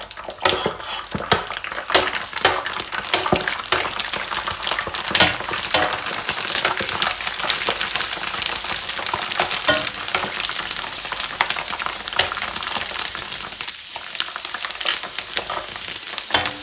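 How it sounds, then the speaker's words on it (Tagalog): Long pieces of pork chicharon fry in hot oil with a steady, dense crackling sizzle that stays loud and close throughout, broken by occasional sharper pops and faint clinks of utensils against the pan. "Dire-diretso ko na po yung pagpiprito lahat."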